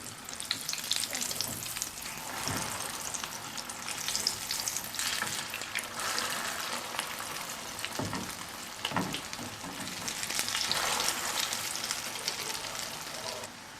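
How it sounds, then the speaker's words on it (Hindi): Beef shami kebabs frying in a pan give a steady, dense sizzle throughout, close and continuous, with occasional stirring or turning scrapes rising briefly above the crackle. "देखिए कबाब अच्छे से फ्राई हो गया है।"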